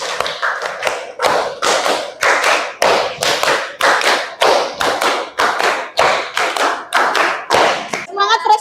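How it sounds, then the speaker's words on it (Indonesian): Schoolchildren in a classroom clap together in a quick rhythmic pattern of hand claps, loud and close, sharp bursts repeating steadily, with children's voices briefly at the end. "Tepuk 5 kali."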